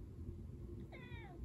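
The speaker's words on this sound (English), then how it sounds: "Look, little boo, there's a kitty on the television." A small ginger cat meows on a television screen showing The Hateful Eight, a single faint drawn-out meow with a rising-then-falling tone heard over a low room hum and background noise.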